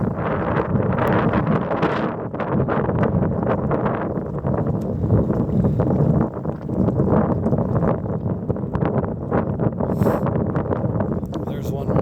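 Strong wind gusts roar steadily against the microphone on an exposed hilltop during a walk, with broadband buffeting throughout and a faint voice under it.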